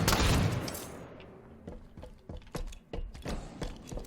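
A Halo 5 weapon fires a loud opening blast, then a quick irregular string of sharp shots with mechanical clicks between them, fairly close and clear.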